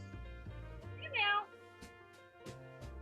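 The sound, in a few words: cat meowing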